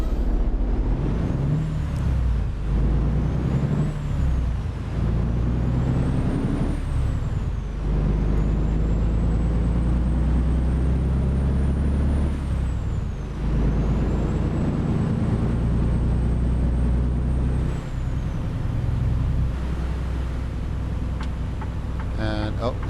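Garbage truck driving with air brakes in the video game American Truck Simulator, set in Oklahoma: a steady loud engine drone with rising and falling gear whine and repeated sharp brake hisses, under ongoing talk.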